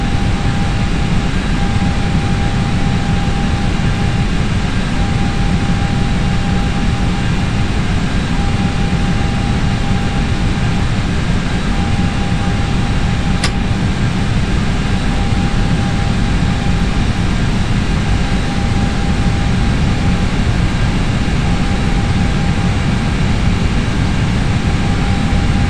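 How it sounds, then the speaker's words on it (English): Jet airliner engines in Microsoft Flight Simulator X, a British Airways Shuttle on its takeoff roll: a loud, steady engine roar with a constant whine, continuous throughout and without talk. "I'm now starting my takeoff roll."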